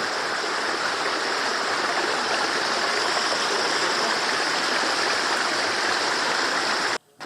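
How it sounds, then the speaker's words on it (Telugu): A waterfall rushing down rocks at Rachakonda Fort, a dense continuous roar close by that cuts off abruptly at the end. "ఇక్కడ నుంచి వాటర్ ఫాల్ స్టార్ట్ అవుతుంది అనమాట"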